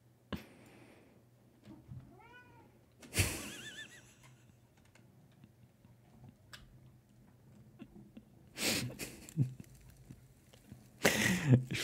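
A cat meows several times, with rising and falling calls spaced out over a quiet background, plus a few louder close bursts of rustling or crunching noise.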